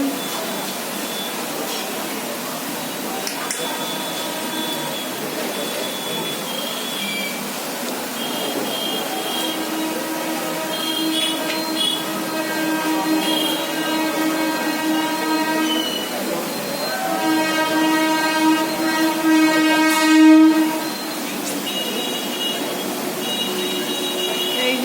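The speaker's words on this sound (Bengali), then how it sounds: "একটা ট্রেন যাচ্ছে" A train passes near Pandua station, its rumble building steadily with rising rattling and clanking of wagons, loudest near the end, while people talk faintly in the background.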